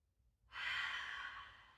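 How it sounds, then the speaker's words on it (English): A single slow, soft breath exhaled during a yoga class, starting after a brief quiet moment and fading gently, close to the microphone, no talk. "breathing in and out."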